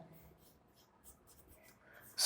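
Faint pen scratching on paper while the slope of line AB is written in a coordinate geometry solution, soft and close.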